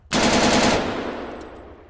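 An AUG rifle fires a rapid automatic burst in Arma 3, loud close cracks in quick succession for about two thirds of a second, then a reverberant tail fading out.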